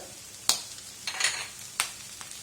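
Coconut pieces and clam meat fry in a pan, a steady soft sizzle broken by a few sharp scrapes and clatters as they're added and stirred, close and fairly quiet.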